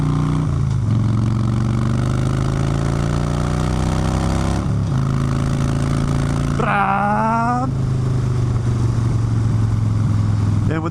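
A rubber-mounted Harley-Davidson Dyna motorcycle engine idles steadily up close with a deep, loping rumble and brief throttle blips partway through, loud and alone with no talk.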